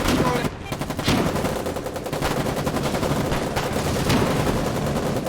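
Rapid bursts of automatic gunfire in the frontline war game Foxhole crackle loudly and almost without pause, with many weapons firing at once.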